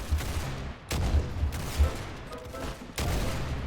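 Rapid gunfire in a Roblox shooting game comes in repeated bursts, with several sharp volleys separated by brief pauses, played alone at a moderate level.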